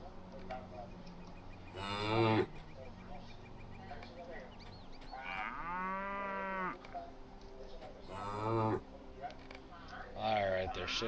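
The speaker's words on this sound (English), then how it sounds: "Oh, there's the cows." Cows moo in the Lord of the Rings Online game, several long lowing calls at about 2, 5.5, 8.5 and 10.5 seconds, fairly close, under steady background ambience with some talk.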